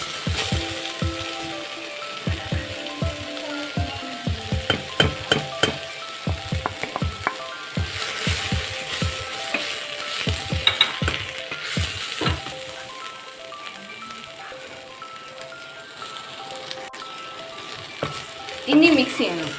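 Chili, pepper, turmeric, chicken masala, garam masala and coriander powders fry in a pan for chicken curry. A steady sizzle sits under repeated, rhythmic scrapes of a stirring spoon, close and fairly loud, with no talking.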